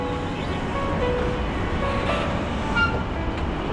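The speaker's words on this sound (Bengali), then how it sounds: "আমাদের ট্রেনটি ছেড়ে চলে যাচ্ছে যে ট্রেনে করে এলাম" A train pulls away from a station in Jamaica, New York, producing a steady, loud rumble of rolling wheels and carriages with faint metallic squeals. There are no voices.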